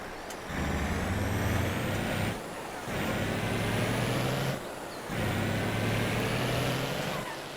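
A TLX Blizzard truck in Farming Simulator 22 drones with a steady engine hum in three long bursts, each cutting off briefly before starting again, loud and close with no talk.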